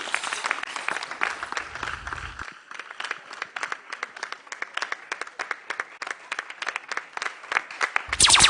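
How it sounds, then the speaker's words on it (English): An audience at a Ghanaian children's talent show launch applauds a young boy singer on stage, with sustained, dense clapping throughout and a brief louder burst near the end. "Ladies and gentlemen, a round of applause for him."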